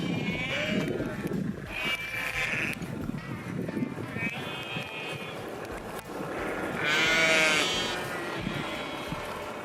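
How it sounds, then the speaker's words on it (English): A sheep on a farm homestead bleats several times, with drawn-out wavering calls coming up close and fairly loud over outdoor background noise and some talking. "So the sheep is just here,"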